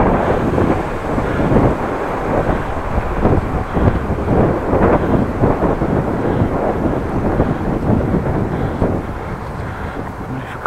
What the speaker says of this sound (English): The wind again.